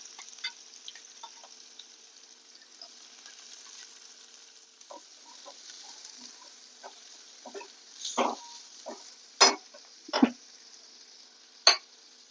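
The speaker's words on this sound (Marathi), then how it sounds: "तर इथं बघू शकता तुम्ही कांदा आपला छान परतायला लागलेला आहे" Onions fry in a pan with cumin, garlic and asafoetida for masoor dal, a faint continuous sizzle punctuated by sharper spatula scrapes and clacks, louder strokes near the end, close by.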